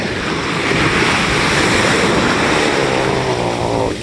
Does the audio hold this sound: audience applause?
no